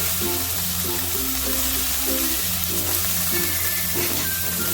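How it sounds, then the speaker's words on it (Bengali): Cauliflower stalks fry in oil with turmeric, making a dense, loud, continuous sizzle close by, with low steady hums running underneath. No voices are heard. "দিয়ে একটু নাড়াচাড়া করে নেবো দেখো তেলের মধ্যে কপি ডাঁটাগুলোকে"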